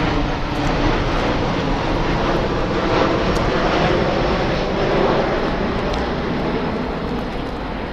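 An airplane passes over an airsoft field as a loud, steady broadband roar that holds for the whole stretch without fading, with no talk.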